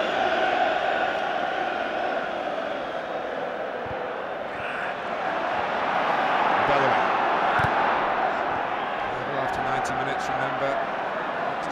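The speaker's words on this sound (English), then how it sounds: "The crowd are trying to get behind them." Large football crowd at a Chelsea v Liverpool FA Cup match, a steady roar of voices rising slightly as supporters urge their team on, under continuous commentary.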